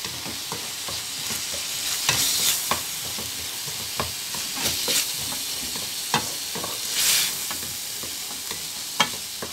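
Chicken breast seasoned with salt, pepper, paprika, ginger, cumin and fish spice is stirred in a sizzling pan, with a steady fry and repeated sharp scrapes and knocks of the utensil, heard alone.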